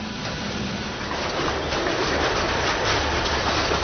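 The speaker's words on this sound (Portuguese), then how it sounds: "Agora já só se movimentam por estas linhas os comboios de uma única fábrica." A single factory's freight train rolls along an old industrial rail line, a steady continuous rumble and rattle of wagons without pause.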